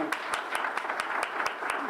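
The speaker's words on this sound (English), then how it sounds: "A big round of applause for Anna." Brief applause from an award event audience for a nominee, about a dozen sharp, evenly spaced claps standing out over a soft, steady bed of crowd noise.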